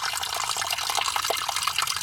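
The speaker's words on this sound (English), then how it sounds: "clear water coming out of this tank" Water drains from a diesel tank in a steady, slightly gurgling trickle, close to the microphone and continuous, with no pauses.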